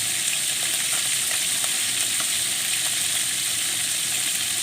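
Fish frying in bubbling hot oil, a steady, even crackling sizzle heard up close and unbroken, with no talking over it.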